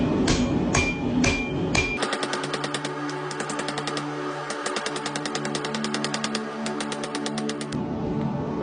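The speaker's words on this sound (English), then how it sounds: "I'm going to use the cross peen hammer to draw it out a little bit more" A cross peen hammer draws out a knife blade tip on an anvil: a rapid, even run of ringing metallic strikes, close and loud, after a few slower opening blows.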